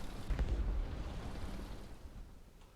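A 1,000-pound bomb exploding in the combat game War Thunder, a single deep distant boom that swells briefly and then fades into a low rumbling tail.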